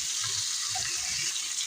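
Water poured into a sizzling pan of pork and broccoli stir-fry with oyster sauce, a steady close hissing splash and bubbling throughout.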